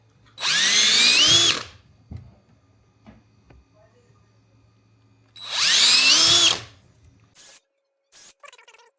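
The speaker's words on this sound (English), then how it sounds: "what we're gonna do is we're gonna drill holes" A power drill whirs in two loud bursts of about a second each while drilling holes for a Ruben's tube, separated by quiet handling clicks and a low hum.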